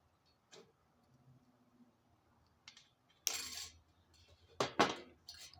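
Wire being snipped for a wire Christian cross, a few sharp metallic clicks and snaps close by, with two louder cuts near the end against a quiet background.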